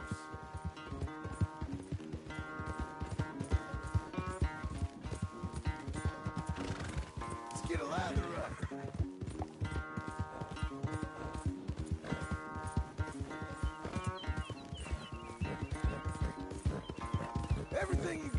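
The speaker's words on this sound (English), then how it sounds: "Where's that big mean horse?" A horse whinnies loudly amid continuous galloping hoofbeats in Red Dead Redemption 2, with game music playing throughout.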